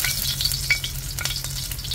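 Sliced ginger sizzles in hot oil in a pot, a close continuous frying hiss with a few light scrapes and no talking.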